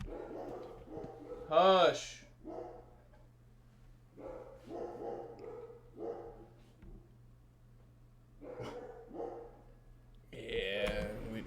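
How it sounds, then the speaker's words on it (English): Pet dogs, two German Shepherds and a Labrador, bark in a home, with a loud burst of barking and whining, then scattered barks and yips, while a voice speaks over them. "We got 2 German Shepherds downstairs."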